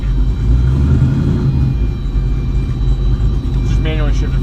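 An LSX-swapped Cadillac Escalade rolls along in first gear, its V8 rumbling low and steady from inside the cabin, with a faint whine rising near the end.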